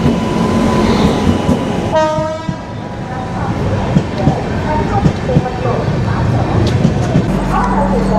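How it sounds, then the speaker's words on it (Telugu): The Grand Trunk Superfast Express pulls into platform 2 with a loud, close rumble of carriages, a sharp horn blast early on, and people talking nearby. "మన జీటీ అయితే వచ్చేసింది ప్లాట్ఫామ్ నెంబర్ 2కి, grand trunk super fast express"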